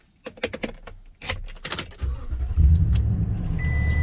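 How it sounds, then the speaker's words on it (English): Inside a 2019 Toyota Tundra TRD Pro, keys jingle and the cabin shuffles before the V8 fires up halfway through into a deep, steady idle rumble, loud and close from the cabin. "Does have that really nice rumble of a V8"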